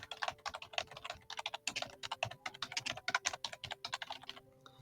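Rapid typing on a computer keyboard while renaming a file, steady bursts of close key clicks with brief pauses, no talking.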